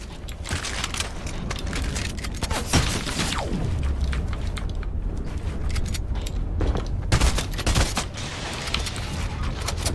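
Rapid bursts of gunfire in the Fortnite video game, repeated sharp cracks and volleys over a steady game background, moderately loud with no speech.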